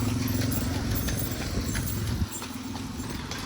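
Horse hooves clip-clopping on a street in Cairo, a steady rhythmic trot close by amid street noise, the hoofbeats fading partway through as the horse passes.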